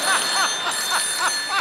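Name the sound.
telephone ringing during a call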